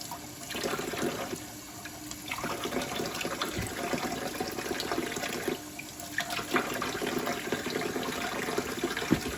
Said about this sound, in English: I'm simply just holding it under the water and letting it be rinsed.